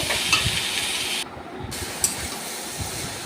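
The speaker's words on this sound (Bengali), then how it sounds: "এবারে ভালোভাবে নাড়িয়ে দেব।" Water spinach frying in a pan with a little turmeric, stirred as it cooks, giving a steady, fairly quiet sizzling hiss with faint stirring scrapes; the hiss briefly drops out near the middle.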